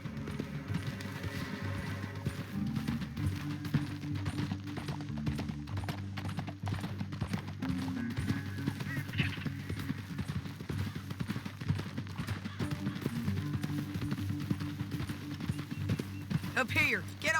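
Horse hooves gallop in fast, rhythmic clip-clop beats across a canyon trail in Red Dead Redemption 2, steady and prominent throughout, with a low rumbling score and characters talking over them.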